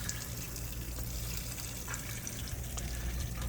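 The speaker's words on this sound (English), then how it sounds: "that was still dripping because I think it's a little residual left in the line" Leftover water dripping from disconnected RV fresh-water lines near a Shurflo tank pump, a steady low wash of trickling and faint drips over a constant background hum, no talking.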